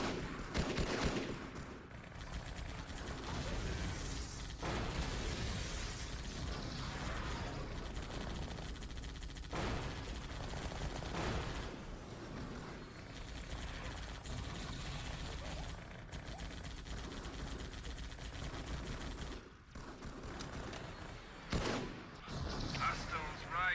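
Sustained, dense combat din from the Halo 2 E3 demo, with artillery fire and gunfire rumbling continuously at steady loudness beneath shouted voices throughout.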